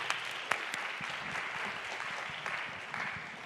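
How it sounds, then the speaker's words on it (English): An audience at a student AI tournament event claps after a talk, a fairly quiet, steady patter of applause heard from a distance, with a few sharper individual claps standing out near the start. "This is the part where you clap."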